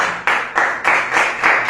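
A church congregation applauding during a worship service, a steady mid-loudness clapping in several surging bursts with no voices over it.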